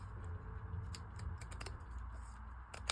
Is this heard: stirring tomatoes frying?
no